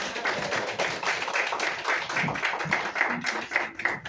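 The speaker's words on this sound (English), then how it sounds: "So a round of applause for my friend" An audience at a talk on environmental conservation gives a round of applause, with steady, moderately loud clapping from a small crowd for the whole stretch and no voices on top.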